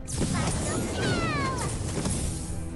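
A cat meows once over noisy background chatter, the cry rising and falling briefly in the middle.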